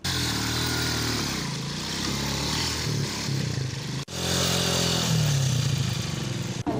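A motorbike rides over a badly damaged road, its engine droning and revving close by with rattling and scraping from the rough surface, and a brief cut partway through.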